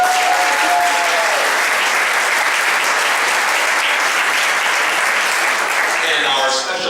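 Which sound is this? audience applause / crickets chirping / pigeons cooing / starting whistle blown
audience applause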